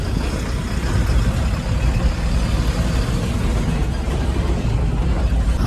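Trucks and other vehicles pass steadily on a busy road in Assam at night, a continuous loud rumble of engines and tyres, close by, with no voices.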